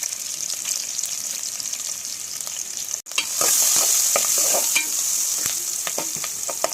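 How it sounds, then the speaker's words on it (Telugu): Onions frying in hot oil with green chillies and turmeric, a steady loud sizzle with stirring scrapes throughout and a brief break near the middle before the sizzle swells again. "ఆనియన్స్ మంచిగా వేగనండి"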